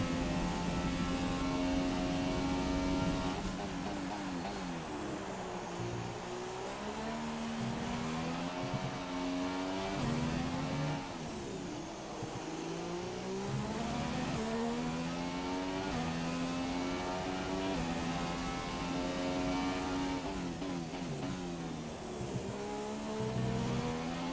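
F1 race car engine in the F1 2017 video game, screaming continuously at high revs with rising and falling pitch sweeps through gear changes, loud and steady for the whole stretch with no talk.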